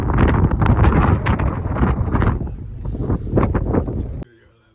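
Strong wind roars and buffets across the open deck of a very large ferry at sunset, a loud, continuous gusting rush that cuts off abruptly near the end.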